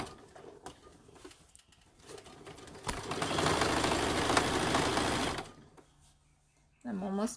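A sewing machine runs in one steady whirring burst for a few seconds while stitching the top edge of a tote bag, close by, with quieter handling noises before and after and a voice at the end.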